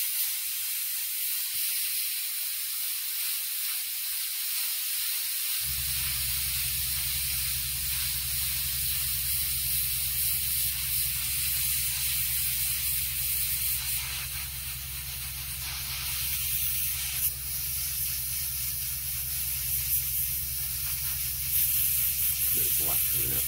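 An inexpensive airbrush with the tip removed sprays weathering paint onto a Bachmann 16-ton coal wagon, a steady close hiss running continuously with slight shifts in intensity.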